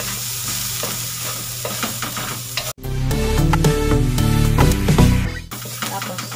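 Garlic sautéing in a little oil in a pan, a loud close sizzle with utensil scrapes, briefly cut off and then returning with a denser, louder frying burst.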